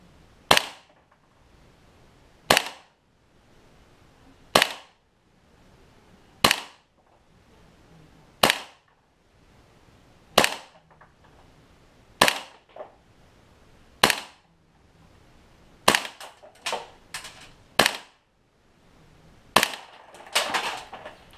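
A propane-powered airsoft gun with an RA Tech flute and valve kit on an aluminum nozzle fires 0.20 gram BBs: about a dozen sharp, loud single cracks roughly two seconds apart, then quicker clustered shots toward the end. No talk.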